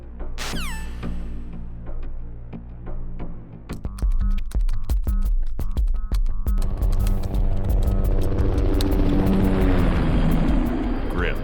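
A helicopter approaching in a Metal Gear-style stealth game scene: a deep throbbing rotor drone that swells louder and denser after a few seconds, layered with game music and effects.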